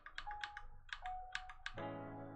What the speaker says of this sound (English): You can probably hear the keys.